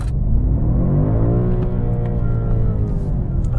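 A 2021 BMW M5 Competition launches hard, its engine note rising in a loud, smooth acceleration sweep that fills the cabin with a deep roar and whir, no voices over it.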